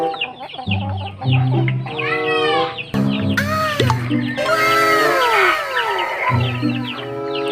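A hen clucks repeatedly close by, with short rhythmic clucks and rising squawky calls over a farmyard background, loud and continuous throughout.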